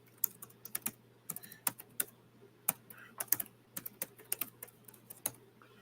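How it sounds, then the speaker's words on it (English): Fast, uneven typing on a computer keyboard, with crisp individual key clicks in bursts and short pauses, close and fairly quiet against a faint steady hum. "I'm typing it as we speak, guys."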